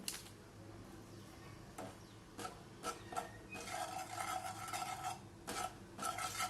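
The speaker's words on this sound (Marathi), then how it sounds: "आता यामध्ये मी चिवडा मसाला टाकणार आहे. छान हे मिक्स करून घ्यायचं आहे." Chivda masala is tossed through a puffed rice snack with a spoon, producing soft rustling stirs and scattered light clinks against the pot, close and fairly quiet.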